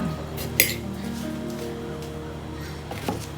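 Spoonfuls of white sugar go into a bowl for egg tarts, marked by two light metallic clinks of a spoon against the dish over a low, steady kitchen hum.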